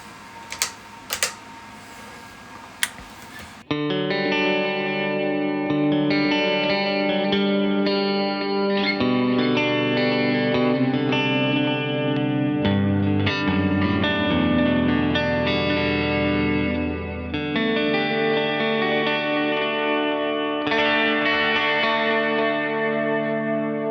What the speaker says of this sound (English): Let's try a little reverb and delay.